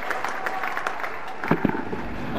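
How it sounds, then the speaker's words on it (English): A cricket crowd of Australian supporters at a Test match in Auckland claps and cheers in a short burst of applause, with the sound fairly distant and mixed with crowd murmur. "there'll be a good round of applause from the Australian supporters here"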